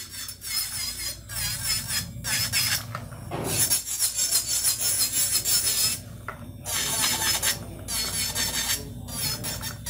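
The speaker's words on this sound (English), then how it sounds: "Circular motion works best with this drill bit." A nail drill bit files a long C-curve acrylic nail in circular strokes, giving a steady high rasping whir that pauses briefly a few times over about ten seconds, close and alone with no talk.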